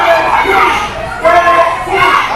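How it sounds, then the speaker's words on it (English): A wrestling crowd at a tag-team match shouts and chants for Richie Nightmare, loud voices swelling in repeated waves that fill the arena. "Now this crowd's calling for Richie to get back into it."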